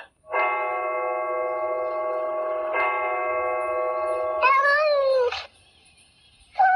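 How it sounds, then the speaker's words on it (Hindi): A long, loud, drawn-out cat yowl with a wavering pitch, rising into a harsher screech before cutting off, then a brief final cry. "बिल्ली जैसी चीख"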